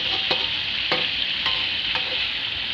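Isan pork sausages from Khon Kaen fry in a pan, a loud, dense, continuous sizzle with regular light stirring knocks about every half second.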